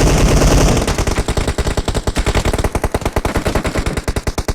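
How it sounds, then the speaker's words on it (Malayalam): Video game gunfire erupts as rapid automatic bursts: a fast, loud, evenly spaced stream of shots that runs almost continuously after a heavier opening blast. "അവൻ എത്ര വെടി കൊടുക്കുന്നു?"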